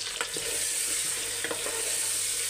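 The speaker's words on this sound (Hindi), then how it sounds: "अब दो तीन मिनट इसे अखनी को हम भूनेंगे" Mutton akhni sautéing in a pot with ginger, garlic and green chillies, a steady soft sizzle with a few scraping stir strokes, close and continuous.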